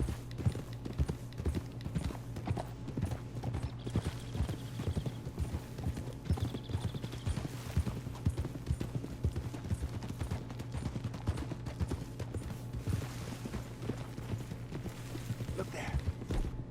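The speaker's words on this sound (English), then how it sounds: "Come on, horsey." Horse hooves clip-clopping steadily in the Red Dead Redemption 2 video game, a continuous even rhythm of close hoofbeats under low game ambience, with faint distant shots.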